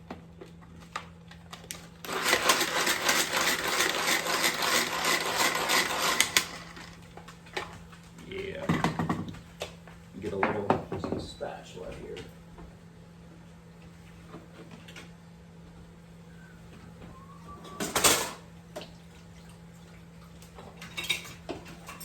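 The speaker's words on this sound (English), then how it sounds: "So I'm going to use the same processor for my garlic." A food processor chops garlic in a home kitchen during lasagna preparation, a loud whirring burst of about four seconds followed by scattered clinks, taps and handling sounds.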